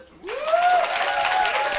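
An audience at a comedy club breaks into applause, the clapping swelling suddenly and sustaining as a dense patter, with a voice carrying over it.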